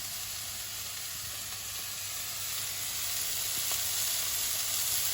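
Tomato puree sizzles softly in a hot pan for ratatouille, a steady faint frying hiss running without a break and swelling slightly toward the end, with no voices.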